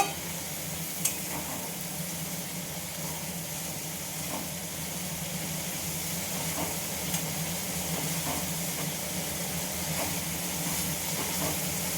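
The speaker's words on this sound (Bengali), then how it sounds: "বেশ মশলাটা আমি সুন্দর মতো কষিয়ে নেব।" Spice masala with Kashmiri chili powder fries in a pan, giving a steady, even sizzle and hiss from start to finish, with faint occasional clicks from stirring and no voices.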